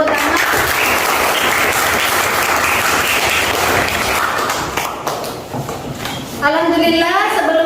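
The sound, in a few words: class applause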